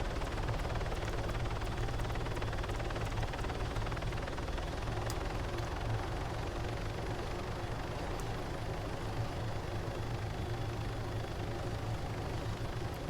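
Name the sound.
helicopter in Call of Duty Modern Warfare 3 video game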